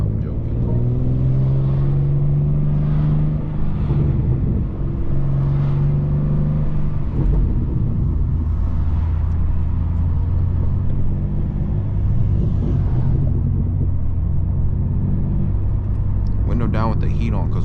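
A BMW M2 at night, its engine and exhaust droning steadily as it drives, with pitch rising and falling through gear changes, heard from inside the car with the window down, with voices speaking over it.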